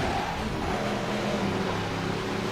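Steady engine roar of a car in Midnight Club 3: DUB Edition Remix racing game, sustained and loud with a constant droning pitch, boosting on nitrous with no voices over it.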